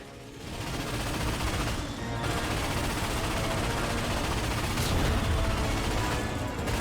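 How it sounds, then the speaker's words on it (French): Continuous heavy warship cannon fire and booming blasts in the video game Ratchet & Clank (2016) roar without pause, dense and loud, with a sharper burst near the end. "On va détruire ces vaisseaux de guerre l'un après l'autre. Dès que le canon est chargé, tire."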